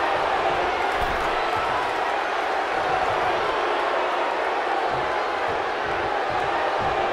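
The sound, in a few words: crowd cheering in WWE 2K19 video game arena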